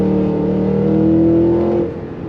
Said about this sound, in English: It's crazy that a vehicle this size accelerates as hard as it does.